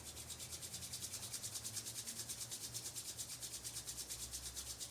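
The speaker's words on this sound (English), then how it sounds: "Bring the palms together and just rub them." Palms rubbing together briskly during a Kundalini meditation, a soft, fast, steady back-and-forth hiss of skin on skin that runs throughout, faint and close, with no talking.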